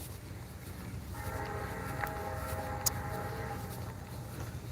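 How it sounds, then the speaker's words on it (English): A distant train sounds a sustained horn with layered tones for a few seconds over a low background rumble, with no talk at that moment. "you hear the train?"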